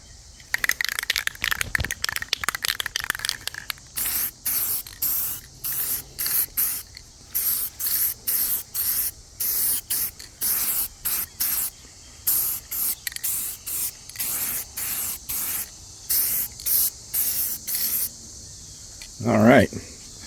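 Spray paint goes on as a dust coat over a Cadillac trim part in a long series of short, loud hissing bursts from a can, with a brief clunk near the end.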